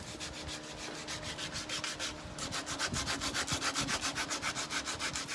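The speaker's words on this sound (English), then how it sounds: "I'm going to hand sand up this handle, make it look a little nicer" A knife handle is sanded by hand, giving close, rhythmic rasping strokes in a quick steady back-and-forth, with a short pause near the middle before the strokes resume.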